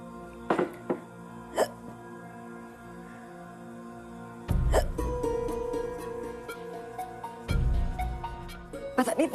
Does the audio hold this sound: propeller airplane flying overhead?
no